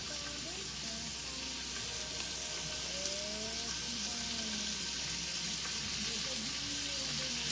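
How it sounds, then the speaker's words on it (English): Beef browns over moderate heat in a pan for beef bourguignon, a dense continuous sizzle with steady hiss, faint scrapes and tonal kitchen noises beneath. "Okay, so we're sauteing it"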